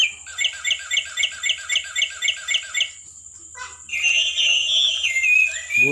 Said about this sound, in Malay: Burung nuri.